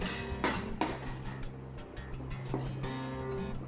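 Coleslaw with sliced Chinese chives being tossed in a bowl, heard as a run of light clinks and scrapes of a utensil against the dish, close and moderately loud, with no talking.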